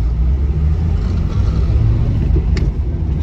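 A 1974 MGB GT V8 engine runs steadily in a traffic jam, with a loud, close, continuous low rumble and no misfiring or hesitancy.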